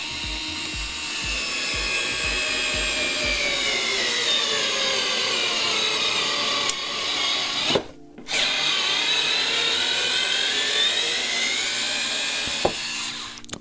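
A compact electric screwdriver, either a Bosch GO3 or a Vessel ball driver, whirs steadily for many seconds while driving into wood, cutting out briefly when the torque limit trips and then starting again.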